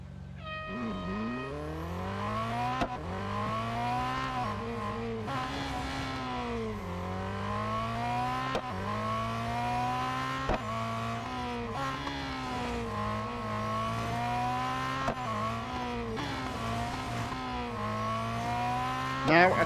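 A race car in Real Racing 3 laps the autocross Sprint Circuit at Nürburgring, its engine whining in repeated rising pitch sweeps as it accelerates and shifts through gears, with brief dips in the corners.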